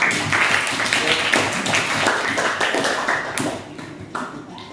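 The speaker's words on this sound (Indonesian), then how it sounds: "Sebelumnya beri tepuk tangan dulu untuk kita semua." Classroom applause from a group of students, a steady dense patter of clapping that carries through the whole stretch with mixed voices underneath.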